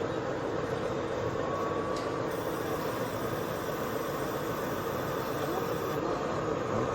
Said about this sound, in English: DMU going through.